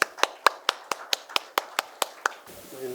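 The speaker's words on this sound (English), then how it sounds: "Can you please have a huge round of applause?" Sharp, evenly spaced handclaps, about a dozen in quick succession, sound close and crisp at a small event stage, then stop abruptly and leave faint room murmur.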